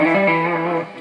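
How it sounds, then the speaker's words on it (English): Electric guitar notes through the Neural DSP Archetype Abasi plugin ring out with a ping-pong delay effect and Valhalla Room reverb, repeats echoing and sustaining before fading near the end. "Nice ping pong delay"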